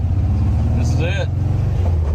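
An old car accelerates hard with the throttle floored, a steady low engine drone that drops and picks up again as it shifts gears, loud and close inside the cabin, with a brief excited voice over it.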